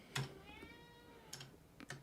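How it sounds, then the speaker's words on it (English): Pet cat meowing indoors, a faint short meow followed by two more soft meows a second later, quiet and close with light background noise. "the cat's here"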